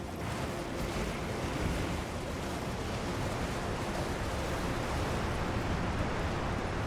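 Waterfall in Elden Ring Shadow of the Erdtree, a steady, fairly soft rushing roar of falling water that continues evenly throughout with no talk.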